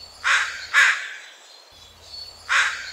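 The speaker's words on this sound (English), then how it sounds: "the American crow. These are relatively large black birds with a loud, chanting call." American crow, a large black bird, giving loud caws: two quick calls close together, a pause, then a third, crisp and fairly near with no other sounds.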